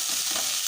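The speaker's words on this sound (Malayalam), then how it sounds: "അപ്പം നമുക്ക് ഉള്ളി മൂക്കുന്നുണ്ട്." Small onions sizzle in a hot pan for an ulli thoran, giving a steady, bright crackling hiss that is fairly quiet and close, with no talking.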